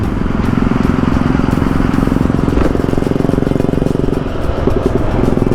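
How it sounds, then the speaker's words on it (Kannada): Royal Enfield Bullet motorcycle from Kerala, its engine running steadily and loud nearby with a deep, continuous thumping rumble throughout. "ಕೇರಳ ಗಾಡಿ, ಬುಲೆಟ್ದು ಸೌಂಡ್ ನೋಡಿ"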